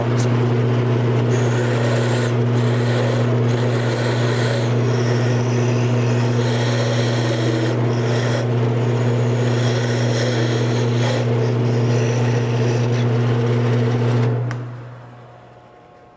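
A wood lathe spins a wooden mallet handle while a turning tool cuts around its back end, giving a steady motor hum under a continuous scraping rasp that winds down near the end.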